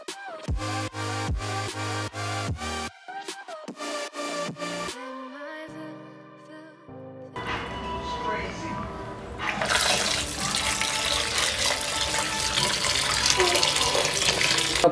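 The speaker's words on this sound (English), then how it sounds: "Cold water, you rinse them." Cold tap water runs and splashes as freshly cooked food is rinsed in a kitchen sink, the flow growing louder and steady after earlier clattering and brief talk.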